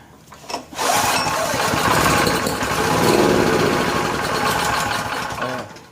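A Honda 2500 watt generator, left sitting unused for over four years, is pulled and starts up, catching after a brief stutter and then running at a loud, steady, slightly rough idle close by.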